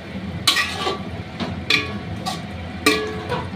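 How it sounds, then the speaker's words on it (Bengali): Marinated mutton stirred and sautéed in a large cooking pot, with three or four distinct scraping, clattering stirs over a steady low sizzle, fairly close. "ম্যারিনেট করা মটনটা, দিয়ে এবারে হাঁড়িতে কষছি ভালো করে"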